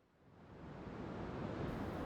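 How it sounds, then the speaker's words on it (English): Ocean surf washes in continuously, a soft broadband rush that slowly swells louder with some wind noise, with no voices. "the sound of the waves"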